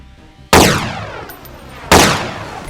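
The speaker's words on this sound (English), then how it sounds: "One clean SVD shot on his upper shoulder." Two loud SVD sniper rifle shots in the game Deadmatter, each a sharp close crack with a long ringing echo tail, spaced about one and a half seconds apart with no voices.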